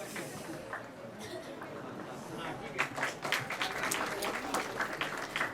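An audience at a Bharatanatyam dance event during a literary convention breaks into applause that swells midway and continues as dense, steady clapping, preceded by a voice speaking over a faint room hum.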